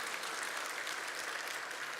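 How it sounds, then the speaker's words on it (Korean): A church congregation at a Sunday afternoon service gives a steady, dense round of applause in thanks for a missionary, sustained evenly from start to finish. "감사의 박수 한번 하시겠습니다."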